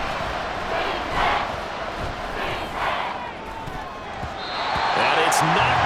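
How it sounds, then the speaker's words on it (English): Loud stadium crowd roaring and swelling throughout a late-game NFL football play in Atlanta, a dense sustained wall of cheering that rises toward the end, with a commentator's voice faintly underneath. "This crowd turning up the decibel level."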